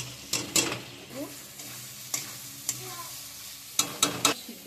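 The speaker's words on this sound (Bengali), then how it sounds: "মশলাটা ভাজা হয়ে গেছে, ভাজা আলুগুলো দিয়ে দিচ্ছি।" Fried potatoes tumble into spices sizzling in a pan for a vegetarian fig curry, with a steady close sizzle broken by several sharp stirring and scraping knocks against the pan; no one talks.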